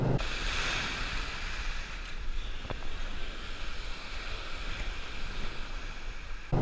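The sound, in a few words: ocean waves crashing on a beach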